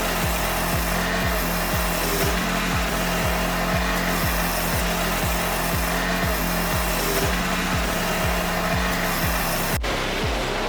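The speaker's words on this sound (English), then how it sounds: "The operator only needs to guide the machine across the stump, letting it grind the remaining base down into clean wood chips." A stump grinder chews a tree stump down into wood chips, a loud, steady grinding roar with a rhythmic pulsing churn that runs throughout before cutting off abruptly near the end.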